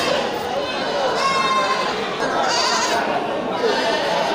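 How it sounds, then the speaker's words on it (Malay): Breeding nanny goats at a livestock market bleat amid a busy, continuous crowd din, their calls partly masked by steady background chatter and bustle. "ini indukan kambing semua."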